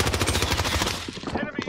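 Kilo rifle fire in a shooter video game rattles off in a rapid, loud automatic burst, then breaks into a few scattered shots while a voice speaks briefly.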